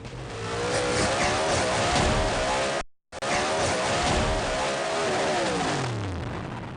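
Sprint cars racing at Speedway City in a World Series Sprint Cars A-main, a dense, loud roar of engines with rising and falling revs as cars pass close, cut by a brief dropout near the middle.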